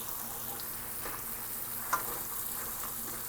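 Guyanese curry spices frying in a pan, a soft continuous sizzle with a faint scrape of stirring partway through, steady and close.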